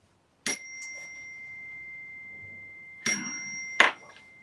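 A meditation chime rings to open a prayer session: one clear strike whose bright tone sustains for several seconds, then two more strikes close together near the end. The sound is alone, with no voices.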